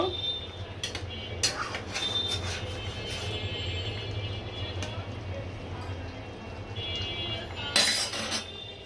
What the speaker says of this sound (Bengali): এখন আবার নেড়ে চেড়ে ঢাকনা দিয়ে ঢেকে দিব